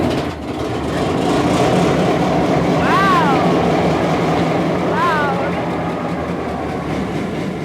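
A large two-stroke marine engine on the world's largest oil tanker starts up, and its deep, dense mechanical rumble swells quickly, then holds loud and steady, with two brief rising-falling whistle tones cutting through the roar.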